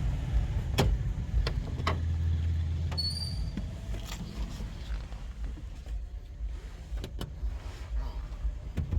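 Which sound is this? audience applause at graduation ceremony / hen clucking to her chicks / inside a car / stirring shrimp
inside a car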